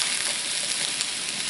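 Mushrooms and onions fry in an old, warped pan that sits unevenly on the burner, giving a loud, steady sizzle that holds at the same level throughout, with no voices over it.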